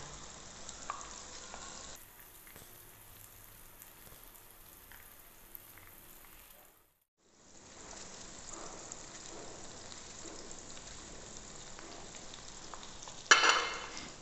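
Roughly cut potatoes fry together with onions in a pan, giving a soft, steady sizzle that drops out briefly midway before returning, with a sharp scrape near the end.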